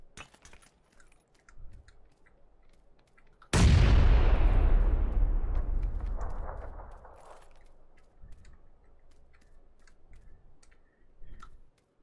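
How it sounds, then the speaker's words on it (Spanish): A single loud grenade blast in PlayerUnknown's Battlegrounds booms up suddenly and rolls off over several seconds, preceded and followed by faint clicks and distant scattered shots. "me voy a tirar granada"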